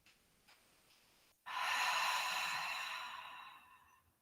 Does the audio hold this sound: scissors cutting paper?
no